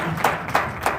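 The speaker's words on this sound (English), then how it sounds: "Clap hands for yourself." Congregation at a prayer conference clapping together, a steady dense patter of many hands with three stronger rhythmic accents in about a second.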